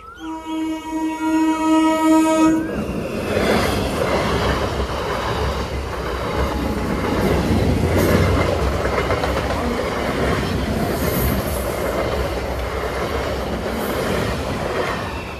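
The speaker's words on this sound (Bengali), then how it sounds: "ট্রেন ঢুকে গেছে দাঁড়াও তোমাদের সাথে ট্রেনটা একবার দেখাই" A train pulls into a station, opening with a loud sustained horn blast before giving way to a steady heavy rumble of wheels and carriages with clattering over the rails, continuing loud throughout.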